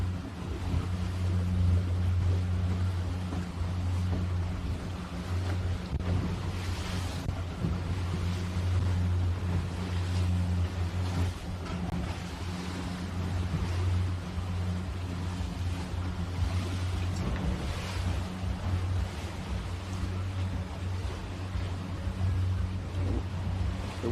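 Sailing boats racing on open sea in a north wind, a steady roar of wind and waves with boat noise running continuously throughout, no talk heard.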